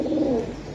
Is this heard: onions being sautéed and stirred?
no